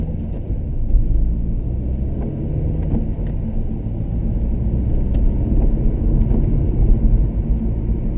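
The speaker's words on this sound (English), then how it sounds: "Car going past this time." A single car passing on a road near Colchester, heard as a low steady rumble and whir from inside another vehicle, moderate in level and without any talk.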